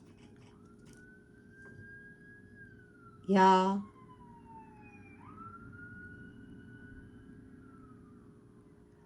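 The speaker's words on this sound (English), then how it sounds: "I haven't had a siren go off in a reading in a very long time." A distant siren wails in long, slow rising and falling tones, faint but clear, interrupted once by a brief loud spoken word.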